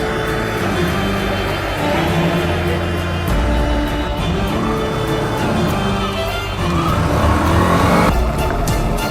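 A car engine revs hard and steadily while the vehicle is stuck on a steep hill road through a tea estate at Maharaja Mettu, Megamalai, with loud, continuous engine and tire noise throughout.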